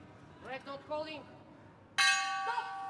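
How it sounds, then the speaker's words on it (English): A boxing ring bell rings loudly to end a round at a youth world boxing championship, its bright sustained tone following crowd and commentary noise. "And there goes the bell."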